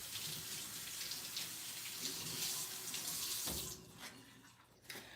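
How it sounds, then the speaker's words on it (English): A kitchen faucet runs steadily as broccoli is rinsed under it, giving a close, even rush of water that thins out near the end as the flow is disturbed. "Well, first, we're going to rinse these off."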